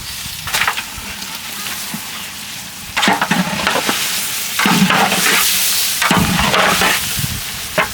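Chicken sizzles and fries in a spiced masala with sour yogurt, cooked in a large village pot for a big batch of layered chicken biryani, with a steady loud crackle that swells in bursts as it is stirred.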